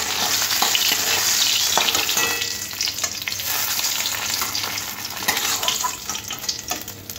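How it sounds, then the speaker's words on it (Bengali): A fish head rubbed with salt and turmeric fries in hot oil, giving a loud, steady sizzle with crackling bursts and a few stirring scrapes throughout. "নুন আর হলুদ মাখানো মাছের মাথাটা তেলের মধ্যে দিয়ে লাল করে একটু ভেজে নেব।"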